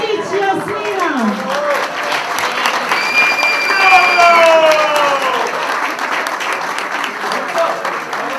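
Sustained applause from an audience at a pistol shooting cup final award ceremony in Serbia, a steady dense clapping throughout, with a voice speaking over it.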